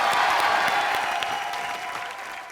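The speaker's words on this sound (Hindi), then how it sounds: "सनी पाजी के लिए जोरदार तालियां" Studio audience at a Colors TV comedy show applauding Sunny Deol, a dense, loud burst of clapping from a crowd that gradually fades over a couple of seconds.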